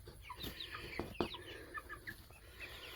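A pen of about 55 Cornish Rock Cross meat chickens clucking and chattering close by, with overlapping calls and a few sharper squawks, plus a brief rustle or flap partway through.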